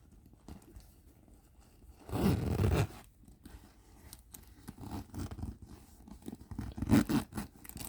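The large zipper on a Coach signature denim bag is pulled in a short rasping run, then again more softly a few seconds later, close by in a quiet room with no talk.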